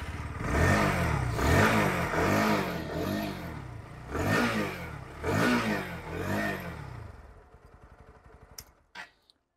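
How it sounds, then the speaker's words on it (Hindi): A Bajaj NS 160 motorcycle with an underbelly exhaust revs repeatedly, rising and falling in about five strong throttle blips close by, then drops off near the end with a couple of faint clicks. "पहले मैं आपको NS के एग्जॉस्ट साउंड भी सुना देता हूँ।"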